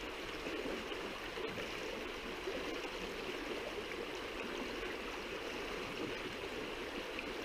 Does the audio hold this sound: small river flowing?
yes